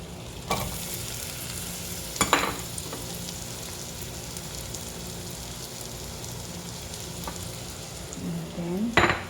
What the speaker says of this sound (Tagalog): ilagay na natin yung sibuyas.